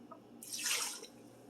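A short pour of water into a crock pot of beef stew, a brief splashing gush lasting about half a second, close and fairly loud, with no talk over it.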